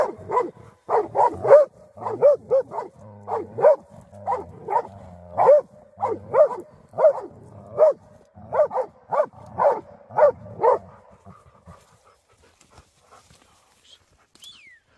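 During a boar hunt, a dog gives rapid rhythmic barks or heavy pants in close, regular bursts for about eleven seconds, then goes quiet.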